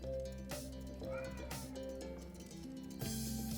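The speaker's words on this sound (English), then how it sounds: "let me let my cat in" A house cat named Ruby meowing at a door, several short distinct meows spaced across a few seconds, moderately close, against a faint musical background hum.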